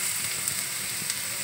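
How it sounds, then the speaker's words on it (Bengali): Food frying in a pan while a vegetarian breakfast dish is cooked with sweet spices, pepper, cumin and coriander powder; a steady, close hiss of sizzling continues throughout, with no talk. "এই যে ভাজা হচ্ছে"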